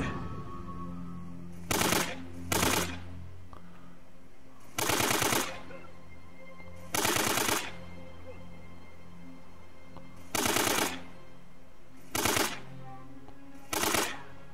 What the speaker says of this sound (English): That took so many AK rounds.